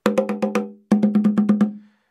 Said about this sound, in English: This is the big Cajon tab